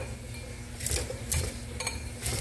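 A knife blade scrapes kernels off a corn cob in a home kitchen, making several close, raspy strokes of uneven length over a low steady background hum, with no talking.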